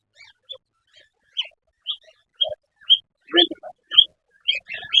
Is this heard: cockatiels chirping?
yes